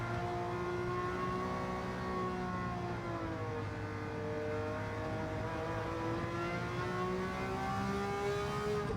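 A Ferrari 330 P4 race car from 1967, driven in Gran Turismo 7 at Le Mans, holds a steady high-revving engine note through laps, its pitch dipping and rising gently, loud and alone with no talk.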